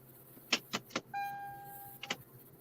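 Inside a car, a few quick clicks and taps are followed by a steady electronic chime tone, then more clicks, all fairly quiet and close.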